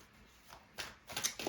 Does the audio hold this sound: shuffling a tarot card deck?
yes